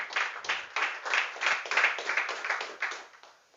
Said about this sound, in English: Oh, clap once more.